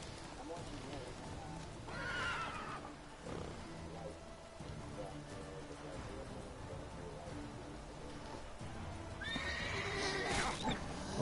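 Roach, a horse in the video game Witcher 3, whinnies twice loudly over trotting hoofbeats and rain-like ambience, with a player's voice talking faintly underneath.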